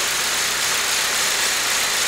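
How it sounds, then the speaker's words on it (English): A 2008 Saab 9-3 2.0T turbocharged engine, warmed up and being checked for a random misfire, idles steadily with a constant hissing hum and no voices. "This is a turbo engine."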